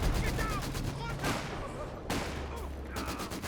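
Machine-gun fire in a Company of Heroes 2 2v2 match, an MG team holding the line against advancing infantry: busy rattling bursts with sharp crackling shots, sustained and fairly close, layered with game battle noise.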